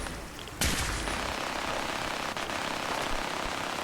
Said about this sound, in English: Oh, I'm just shooting into the fog.